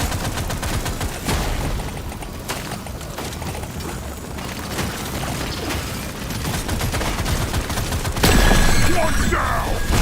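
Rapid gunfire from Deep Rock Galactic Survivor, a dense, steady crackle of shots running throughout at moderate loudness, swelling into a louder burst near the end.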